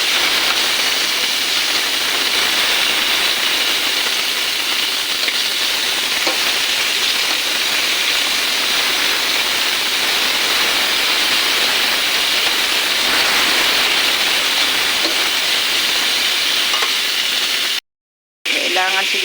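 Meat sizzling and frying steadily in a pan while cooking pinakbit with broccoli, a dense continuous hiss close up that runs the whole time before cutting out briefly near the end.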